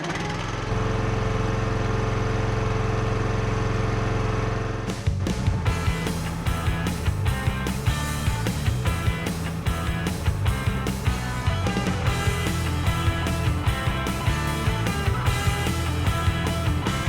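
A log splitter's small engine starts and runs at a steady idle, then settles into a busy rhythmic chugging with repeated bursts as firewood is split, loud and close throughout.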